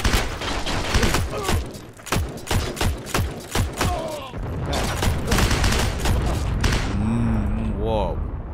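Gunfire in the World War II shooter game Heroes and Generals comes as a series of sharp, closely spaced shots, then several irregular bursts and thuds. A player talks over part of the shooting.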